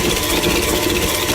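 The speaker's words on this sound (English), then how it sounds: "These KitchenAid mixers are workhorses, I tell you what." A KitchenAid stand mixer runs at speed, mixing muffin batter for blueberry muffins; a constant close motor drone and whir with no breaks, and no voices.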